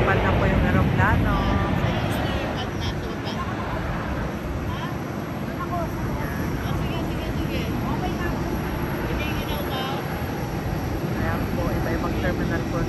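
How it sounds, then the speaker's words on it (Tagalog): A Japan Airlines airplane takes off at Haneda Airport, heard as a steady loud roar of jet engines from a terminal, with a person talking over it. "O, ayan, lumipad na po yung aeroplano."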